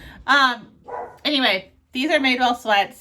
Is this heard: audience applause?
no